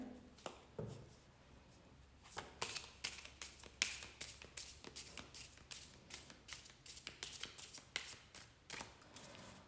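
Rapid papery riffling of a deck of cards being shuffled, repeated bursts of quick flutters with short pauses between, close and fairly quiet.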